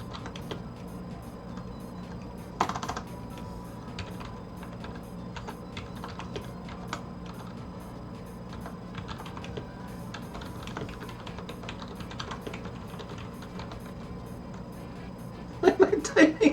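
Computer keyboard typing comes as scattered, faint clicks over a quiet room background, with a denser burst of keystrokes near the end.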